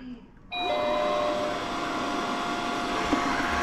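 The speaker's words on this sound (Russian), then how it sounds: "Купили робот-пылесос, он, кстати, тоже давняя наша мечта." A robot vacuum cleaner switches on for its first run: a short chime, then a steady whirring motor hum that carries on loud and close, with no one talking.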